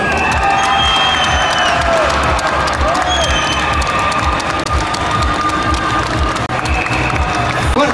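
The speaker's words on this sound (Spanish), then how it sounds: "Fuerte el aplauso." Loud crowd applause and cheering at the Miss Guatemala 2010 coronation pageant as Miss World Guatemala is announced, sustained clapping mixed with shouts and high-pitched whistles or screams throughout.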